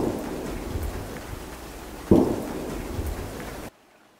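Steady rain falls over a foggy mountain bay outdoors, a continuous hiss with a sharper thump midway, cutting off abruptly near the end.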